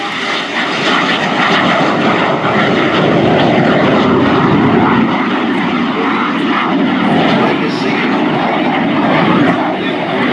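A Lockheed T-33 Shooting Star jet flies during an air show at NAS Oceana, its engine roar loud and sustained throughout, a broad steady rushing drone with no voices heard.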